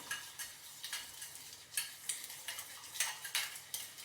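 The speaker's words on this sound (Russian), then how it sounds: "Все хорошенько перемешиваю." Curd filling stirred with a spoon in a bowl, a run of soft scraping strokes and light clinks repeating steadily at close range, with no voices.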